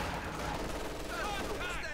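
Gunfire from a Sturm officer's Luger pistol in the real-time strategy game Company of Heroes 2, a steady busy battle din with dense shot noise and whizzing effects, under faint game clutter.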